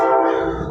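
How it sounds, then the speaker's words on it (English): A passing train sounds its horn nearby, a loud sustained tonal blast that fades slightly as it continues, heard outdoors without speech. "Ooh, there's a train."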